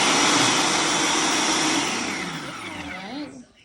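A blender purees red cabbage in a steady, loud whir that gradually eases and then cuts off near the end, with no talking over it.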